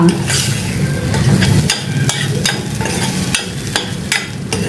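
Horse gram and rice are sautéed together in a pan, giving a steady dry sizzle with repeated scraping strokes of a spoon stirring the grains, close and fairly loud with no talking.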